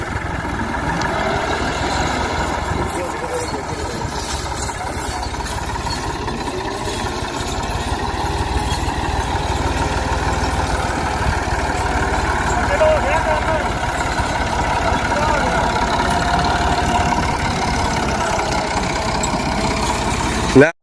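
A tractor engine idles steadily throughout with a low, constant rumble, while voices talk over it as a tow chain is hooked up to the tractor, in Punjab, Pakistan.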